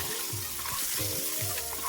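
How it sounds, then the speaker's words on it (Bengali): Eggs sizzle steadily in hot mustard oil with salt and turmeric for an egg curry, with a spatula scraping and stirring in a regular rhythm about every half second, close and continuous, no voices. "খুন্তির সাহায্যে ভালোভাবে ভেজে নেব"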